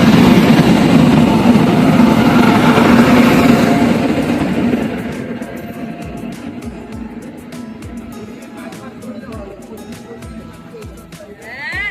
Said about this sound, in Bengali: আমাদের ট্রেন ঢুকে গেল পদাতিক এক্সপ্রেস নিউ আলিপুরদুয়ার শিয়ালদা